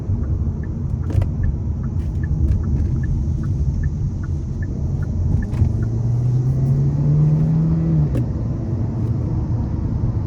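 A 2024 Hyundai Elantra Hybrid in sport mode accelerates onto Interstate 65, heard from inside as a low cabin drone and road rumble with a rising engine tone that climbs steadily, then drops at a shift, with faint ticking clicks throughout.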